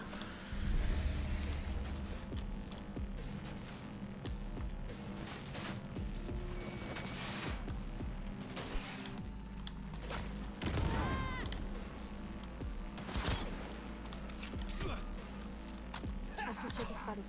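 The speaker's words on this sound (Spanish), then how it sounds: "escuché disparos" Gunfire in Cyberpunk 2077 crackles in scattered bursts and single sharp shots amid game sound effects, fairly quiet overall, with a voice talking at times in between.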